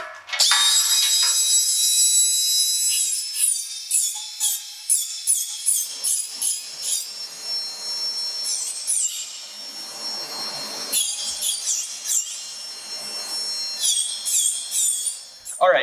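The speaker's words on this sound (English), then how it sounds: "now that we have put in all 4 holes without puncturing the inside 4-inch tube" Holes are drilled into the stainless outer tube of a twin diesel boat's exhaust pipe, a loud high-pitched grinding whine running steadily and then cutting in and out in short bursts as the bit bites.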